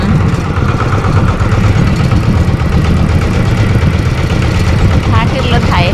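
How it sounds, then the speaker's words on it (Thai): A walk-behind tractor engine runs steadily at idle on a farm, a continuous low chugging rumble heard close and loud throughout, with a faint voice in the background. "รถไถเดินตาม"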